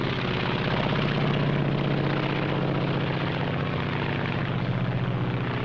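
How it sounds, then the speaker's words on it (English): The engine of a Japanese Zero fighter aircraft of the Second World War drones steadily and loudly, a continuous propeller roar with no break for the whole stretch. "This is the Japanese Zero."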